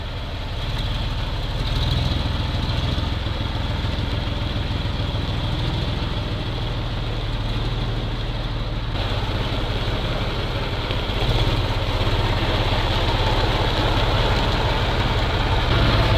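A MAZ truck engine idles after a cold start in frost following long storage, a loud, steady low rumble with a rough chugging pulse that continues unbroken throughout.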